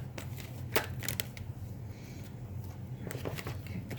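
Soft, quiet riffling of a deck of cards being shuffled, a few quick ruffles close by with a low background hum.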